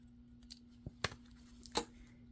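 Scissors cutting off part of a paper label: a few faint, short snips and a soft papery rustle at close range over a steady low hum.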